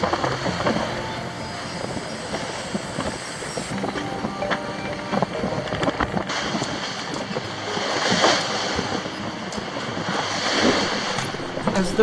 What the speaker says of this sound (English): Eventually, as we get away from the shallow water, the waves are rolling and not pounding and breaking.